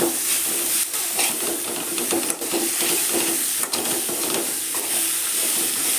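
Tomatoes fry in a pan for a Mangalore-style tomato dish, making a continuous close sizzle and hiss with soft stirring scrapes and a couple of sharp clicks, with no talk.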